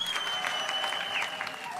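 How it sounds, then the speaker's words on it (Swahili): A church congregation applauds in one steady, dense burst of clapping that fills the whole stretch, with faint crowd murmur beneath. "Pia muwapigie makofi."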